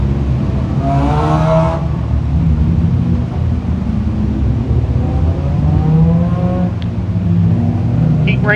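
DIRTcar Sportsman race cars roar around Can-Am Speedway in a heat race, a loud, continuous engine drone with revs rising and falling as cars pass.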